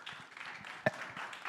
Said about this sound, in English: Round of applause for Jose.